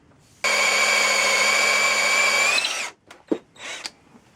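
A power drill bores holes in wood for greenwood Sussex chair stretchers: one loud, steady whine lasting a couple of seconds, winding down as it stops, followed by a few light knocks and handling sounds.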